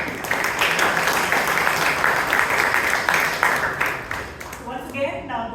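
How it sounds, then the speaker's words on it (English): A Toastmasters club meeting audience gives a dense burst of clapping that fills the room for about four seconds, then fades out. "big round of applause to the entire club to make that happen"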